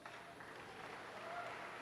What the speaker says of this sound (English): is clapping for Marco Fu